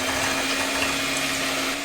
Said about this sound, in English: making sure you have no yolk in your whites, you just whisk